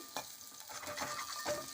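Green chillies frying in a pan for a cucumber chutney, giving a soft, steady sizzle with faint stirring scrapes, close but quiet, and no voices.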